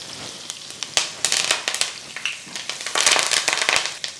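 Fresh curry leaves dropped into hot oil with fried green chillies, giving a burst of loud spattering crackles and pops that come in dense clusters over a few seconds, close by and with no voices.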